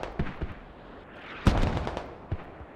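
Mortar fire in the video game Squad, a few distant booming thuds spread unevenly over a couple of seconds, the loudest in the middle, with no voices over them.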